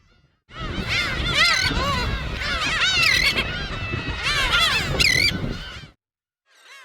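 Seabirds on a windswept sea island nesting colony, loons and Chinese crested terns, give loud, overlapping honking and harsh calls in a steady chorus for several seconds before falling silent.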